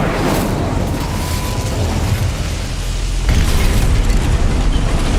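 Incendio fire spell cast in Hogwarts Legacy, a loud sustained roaring whoosh of flame with a deep rumbling low end that swells again midway.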